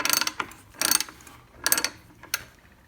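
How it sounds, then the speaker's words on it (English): A 1/2-inch ratchet fitted to a socket welded onto a bead roller cranks it along, sounding as four distinct bursts of crisp pawl clicking with short pauses between, close and clear. "Now I use a 1/2-inch ratchet, and I can just go as slow or as fast as I want."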